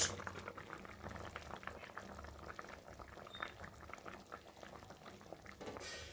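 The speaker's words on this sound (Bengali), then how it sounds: "তো দেখো মাছের ঝোল ফুটে গেছে, আলুটাও সেদ্ধ হয়ে গেছে।" Fish curry with potatoes bubbling at a steady boil in a pot, a continuous close simmering gurgle with no voices.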